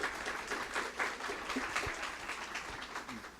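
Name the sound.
audience applause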